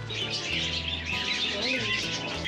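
Small birds chirp and tweet steadily in a garden in Northern Cyprus, thin bright calls over a constant outdoor background, with a voice murmuring briefly at times.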